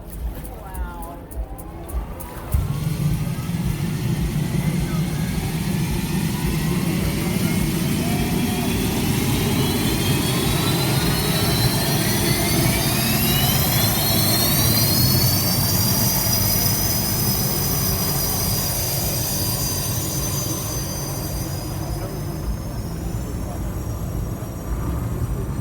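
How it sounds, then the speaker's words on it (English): The Oberto, an unlimited hydroplane race boat, roars with a loud, continuous turbine-like engine note, whining pitches climbing steadily as it spools up, with a broad rumbling wash underneath and muffled voices partly mixed in. "Well, you gotta love that sound if you're a hydroplane race fan."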